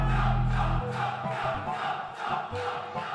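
A crowd at a fighting game tournament roars and cheers in rhythmic waves after a low booming intro hit, loud and close, with no distinct talk.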